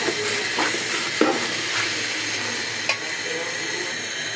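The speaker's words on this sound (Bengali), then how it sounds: "গরম পানিটা দিয়ে দিব।" Hot water poured onto rice fried in a pot for a small biryani, with a steady, moderately loud sizzle and hiss and a couple of brief clinks from the pot.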